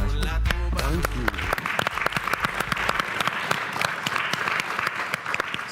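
An audience at the Launchpad Conference in the Leeds Conservatoire venue bursts into sustained, dense applause that runs steadily to the end, with a voice speaking briefly at the start.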